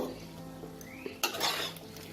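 Tomato, date and amsotto chutney ingredients with cashews are stirred in a pan. A quiet scrape and clink of a utensil against metal comes with a brief louder knock, over a faint sizzle.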